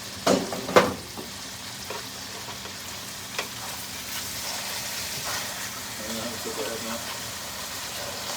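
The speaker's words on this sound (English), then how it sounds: "Before I put those on, I'm actually gonna flip the burgers." Burgers sizzle and fry in a pan during keto-friendly meal prep, a steady close hiss running throughout with a couple of sharp clatters near the start as they are flipped.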